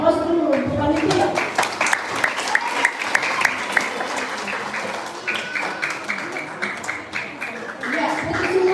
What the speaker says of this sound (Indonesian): Mari kita berikan aplaus dulu untuk panitia.